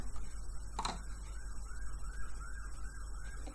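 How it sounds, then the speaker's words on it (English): A police car siren wails faintly in the distance, rising and falling in repeated sweeps over a low background hum indoors, with a brief knock near the start. "So there's a police car, it's distracting me."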